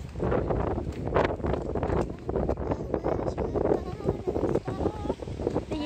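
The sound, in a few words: strong wind on a morning walk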